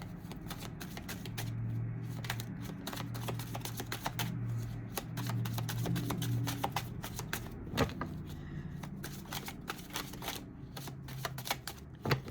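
Tarot cards being shuffled by hand at close range, a continuous soft riffling and slapping of cards that runs throughout with occasional sharper taps.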